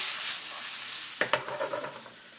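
Garlic and onions hitting a hot pan while making risotto: a steady loud sizzle, then a few sharp stirring scrapes and clatters partway through.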